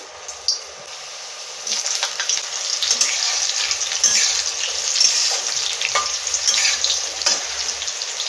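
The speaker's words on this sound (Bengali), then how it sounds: "তেলটা গরম হয়ে গেছে, প্রথমে আলুগুলো ভেজে নেবো।" Potatoes frying in hot oil in a wok, a steady bright sizzle that stays loud throughout, with occasional clicks and scrapes of stirring.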